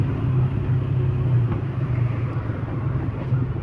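A car in a driving lesson on roads around Kalyan and Thane pulls away in first gear, its engine a steady close low rumble with road noise inside the cabin, no talk.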